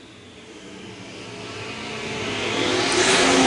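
B-Mod race cars roar around a dirt oval during a heat race, a loud engine drone building steadily as the cars accelerate closer and pass.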